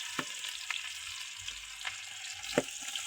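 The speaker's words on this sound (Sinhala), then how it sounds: "කරපිංචා, රම්පේ ඒ ටික තෙලේ බැද ගන්න." Onion, garlic, curry leaves and other spices frying in oil in a clay pot for a village-style chicken curry, a faint steady sizzle broken by scattered crackles and stirring knocks, close and heard alone.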